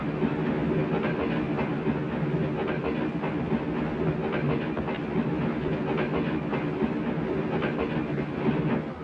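An early-1970s passenger train rolls steadily along the rails, its wheels clattering in a continuous rhythmic rumble with faint clicks, loud and close from inside the carriages.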